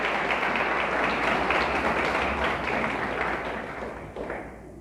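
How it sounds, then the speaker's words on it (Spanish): A congregation applauds for God at a church service, dense sustained clapping that holds steady and then thins out toward the end. "Denle fuerte el aplauso a Dios."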